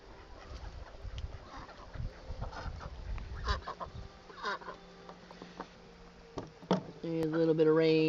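Ducks and geese honking and quacking outdoors in light rain at a backyard chicken-keeping setup, calls rising and falling at moderate distance with a person talking intermittently over them.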